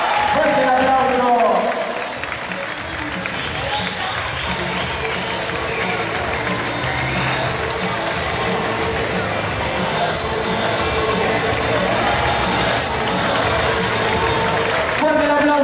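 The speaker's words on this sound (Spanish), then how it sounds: "Manu Pereira, arriba del escenario, fuerte el aplauso." Sustained crowd applause with cheering and shouts at an award ceremony, a broad steady wash of clapping that swells early and holds loud throughout, mixed with voices.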